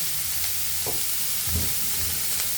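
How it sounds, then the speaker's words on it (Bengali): Carrots and onions frying together in a pan for fried rice make a continuous close sizzle, with a few soft scraping stirs breaking through. "গাজর এবং পেঁয়াজগুলো একসাথে দিয়ে দিব, ভেজে নিব।"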